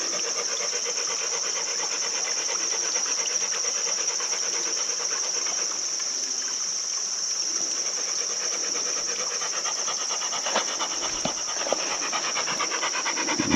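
A dog panting on a trail beside a small trickling stream, rapid steady rhythmic breaths close by, continuing throughout over a constant high hiss of flowing water.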